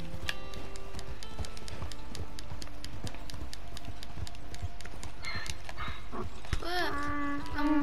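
Rapid rhythmic hoof clip-clops from a galloping donkey in Red Dead Redemption 2, over busy background music with a few bright tonal effects.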